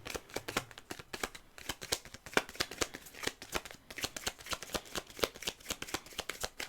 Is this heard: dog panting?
no